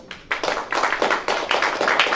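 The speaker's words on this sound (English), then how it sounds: "please give them a round of applause" A luncheon audience applauds after a talk, a dense run of hand claps building quickly and holding steady, fairly close and without voices on top.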